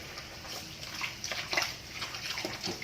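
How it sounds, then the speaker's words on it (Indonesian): Water pours into a pot of hot water on a kitchen stove, a soft continuous splashing and gurgling with a few brighter trickles, fairly quiet and close. "saya tambah air dulu"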